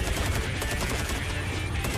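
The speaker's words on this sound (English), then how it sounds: "I'm being shot at in my back." Sustained rapid gunfire from a video game, a dense, steady fusillade of overlapping shots at even loudness with no pauses.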